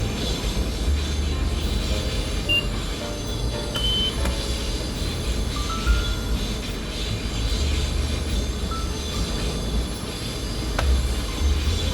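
Steady loud rumble inside an Amtrak Northeast Regional train car running between Providence and Boston, with rail clatter, occasional faint wheel squeals and constant wind-like roar throughout, no voices.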